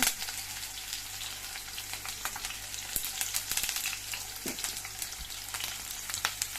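Garlic frying in hot oil crackles and sputters close by, dense sharp pops over a constant sizzle with a faint low hum beneath, no talking.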